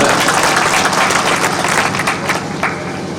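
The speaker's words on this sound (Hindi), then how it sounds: "जोरदार तालियों से अभिनंदन" A crowd at a public protest rally in Khandela breaks into loud, sustained applause, a dense wash of clapping from many hands that barely wavers and slowly eases toward the end, with no talking over it.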